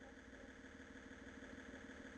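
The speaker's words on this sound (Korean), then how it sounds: "정차 중에는 아이들링 소리까지 납니다." Blueshark R1 Lite electric scooter sitting at a stop while playing its simulated engine idling sound, a steady, even hum with a faint regular pulse, held at a constant level with no talk.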